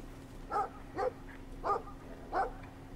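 A dog barks in the video game Brothers: A Tale of Two Sons, four single barks spaced roughly half a second to a second apart, moderately loud over a low steady hum.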